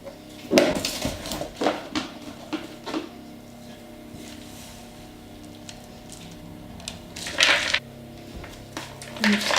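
A spoon stirring chopped Easter egg chocolate into a mixing bowl: irregular scraping clinks and taps against the bowl, some louder strokes near the start and end, close up.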